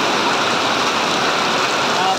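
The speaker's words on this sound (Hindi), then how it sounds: "ठंडा ठंडा मौसम है, जोरों की बारिश हो रही है।" Heavy rain pours down on a village in a dense, steady hiss that stays loud and unbroken throughout.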